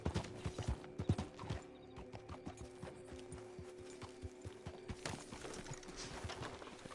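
Hooves clip-clop in a quick, steady rhythm as a horse trots in the video game Red Dead Online, with a brief snort or whinny mixed in.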